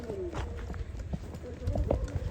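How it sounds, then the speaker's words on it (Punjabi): Horse hooves clatter in a quick, uneven rhythm during a village horse race, over steady outdoor noise, with a voice calling out over them. "ਲੋ ਬਾਈ ਟਰੰਪ ਘੋੜਾ ਚੱਲਿਆ ਜੀ"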